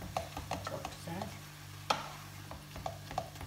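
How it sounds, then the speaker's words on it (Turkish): A spoon stirs minced meat frying in a pan for a zucchini dish. Soft repeated scraping strokes and one sharper clack sit over a faint sizzle, close but quiet. "kıymamızı karıştırmamız gerekiyor ki birleşik pişmesin, diş diş ayrılmış olsun"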